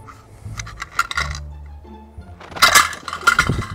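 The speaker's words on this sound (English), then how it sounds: "You just dropped all the washers?" Metal penny washers dropped during a consumer unit installation, a scattered burst of bright clinks and rattles landing close by, with a quieter earlier cluster of small metallic taps.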